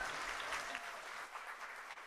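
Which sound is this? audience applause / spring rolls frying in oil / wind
audience applause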